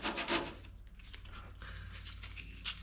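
Hand sanding on a car body panel, a close rasping rub in repeated strokes, louder at the start and then softer, steady scraping with no talk.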